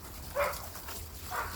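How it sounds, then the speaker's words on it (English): Neighbouring dogs give two short barks at a distance, faint and separated by a brief pause, over low background noise. "Excuse the noise of these dogs."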